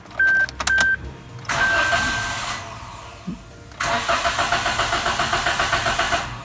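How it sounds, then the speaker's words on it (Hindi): A 2021/22 Suzuki Alto VXR with a 660cc engine, tested with its immobilizer key, gives a few short beeps before a long steady starter crank, a brief pause, then renewed rhythmic cranking that fails to catch. "अब मैं दोबारा इस की के साथ गाड़ी को स्टार्ट करता हूँ।"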